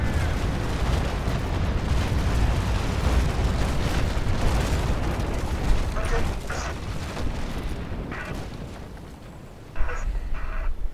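Ship cannons firing in the naval combat game Naval Action (4v4 battle with the pirate ship Bellona): a steady low rumble of broadside booms and battle noise runs throughout, with a sharper blast near the end, while players talk over it.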